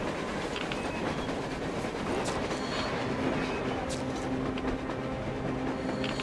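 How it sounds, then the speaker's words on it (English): A train in the video game Metro Exodus rolls along on the surface, a steady, continuous rumble with a faint rhythmic clatter that holds at an even level for about six seconds and carries no speech. "A train! A damn train on the surface!"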